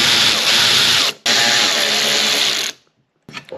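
Power driver whirring steadily as it backs out 5mm Allen screws from a Volkswagen outside mirror housing, a loud continuous buzz with a brief pause near the middle, stopping before a faint click at the end.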